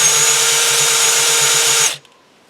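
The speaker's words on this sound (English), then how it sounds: "Now you can hear the drill." Power drill running engine oil pump on a 1978 GMC Caballero, a loud steady high whir with a throbbing low pulse that holds for about two seconds, then cuts off abruptly to near silence.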